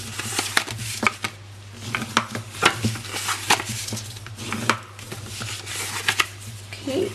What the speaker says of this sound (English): We're going to just fold and burnish our score lines.